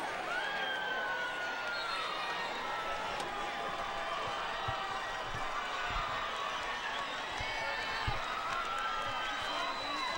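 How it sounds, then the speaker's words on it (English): Crowd noise at a college football game against LCC, a continuous distant roar of cheering and voices filling the stands, with scattered thumps and a commentator-style voice over it. "The LCC crowd is really fired up. You can hear him from here, Brandon."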